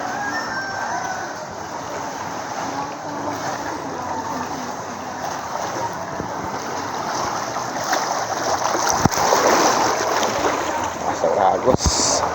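Flooded river current rushing steadily through a submerged area during a flood, a continuous broadband roar with voices talking over it.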